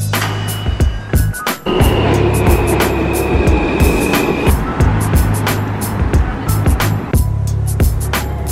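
A New York City subway train rumbles loudly and steadily with sharp metallic clanks and rattles, a sustained whine running through part of the ride.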